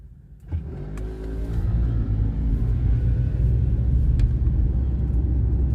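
A car drives along a road through a London park. A loud, steady low rumble is heard from inside the vehicle, building up after a brief quieter start.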